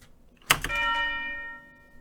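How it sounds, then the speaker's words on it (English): A tubular bell strikes once in a hip-hop beat, then a second softer hit follows, ringing with bright sustained metallic partials that slowly decay over about a second and a half. "I added this tubular bell."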